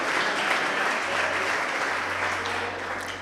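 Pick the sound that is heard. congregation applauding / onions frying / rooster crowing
congregation applauding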